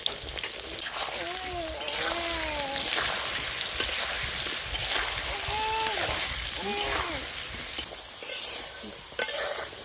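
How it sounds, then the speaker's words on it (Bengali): Potatoes frying in oil in a pan for a chicken curry, a continuous crackling sizzle with bursts of stirring and scraping, while a voice speaks faintly in the background. "আলুটা হয়ে গেছে ভাজা"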